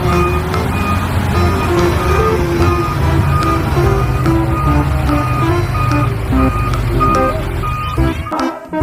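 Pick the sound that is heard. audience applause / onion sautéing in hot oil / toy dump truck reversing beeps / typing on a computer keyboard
toy dump truck reversing beeps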